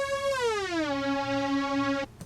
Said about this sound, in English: It's a lead from Alchemy, the analog unison lead.